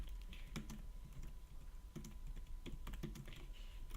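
Fingers tap quickly on a computer keyboard while entering Python code, giving a quiet, uneven patter of key clicks in short bursts over a low background hum.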